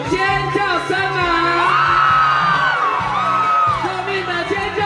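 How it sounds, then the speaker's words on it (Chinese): A concert crowd at an outdoor music event in Su'ao, Yilan, screams and whoops loudly and steadily in many overlapping voices, with high yells rising and falling over a continuous roar. "可以让我听到你们的尖叫声吗？"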